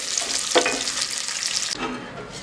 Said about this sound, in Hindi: अब मैं इसमें ऑयल डाल रही हूँ। इसमें प्याज डालूँगी